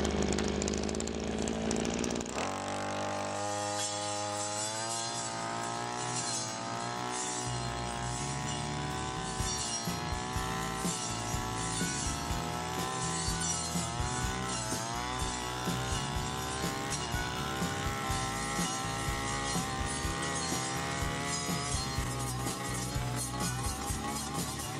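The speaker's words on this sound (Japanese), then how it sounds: "じゃあ草刈り機で残った笹とかを綺麗にしましょう。" A brush cutter clears leftover bamboo grass in an overgrown patch, its small engine spinning up after a quiet start and then droning loudly and steadily throughout with wavering pitch under load.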